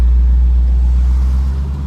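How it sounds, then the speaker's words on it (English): A Ford Mustang's V8 idles close by with a deep, steady low rumble that holds evenly and eases slightly toward the end, with no one speaking. "I think this is the best sounding V8 on the market right now"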